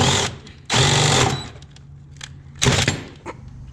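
A power drill whirs in two sharp bursts boring holes in a Corvette, a longer run followed by a shorter one, with brief clicks and rattles between them.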